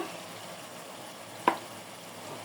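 Onions frying in hot oil give a faint, even hiss with a single sharp clack of a utensil midway, quiet and close, with no voices.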